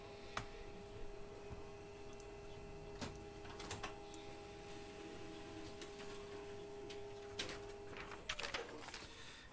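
A printer runs through a print job during a trading card box break, giving a steady mechanical hum and tone with scattered clicks and ticks, ending in a burst of busier clicking; no one speaks.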